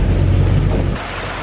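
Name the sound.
heavy rain pouring during a squall at sea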